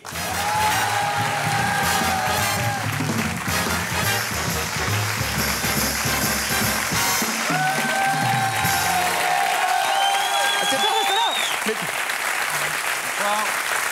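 A live audience applauds loudly and steadily, with scattered cheers and whoops, as French comedian Laurent Baffie is welcomed on stage; a voice speaks over the clapping partway through.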